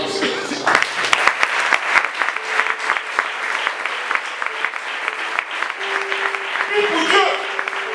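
A church congregation applauds and cheers steadily at a worship service, a dense wash of clapping with voices rising through it, continuous and fairly loud across the whole span.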